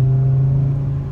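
A car with its exhaust resonator removed gives a short burst of close, steady low engine rumble and exhaust drone that eases slightly at the end.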